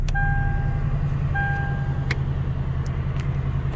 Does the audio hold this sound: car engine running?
yes